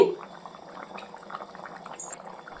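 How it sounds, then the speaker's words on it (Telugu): Tuna fish curry simmering in a pot, a steady soft bubbling and popping that stays fairly quiet and close throughout. "ఫిష్ కర్రీ వచ్చేసి తొందరగానే ఉడుకుతుంది చూడండి"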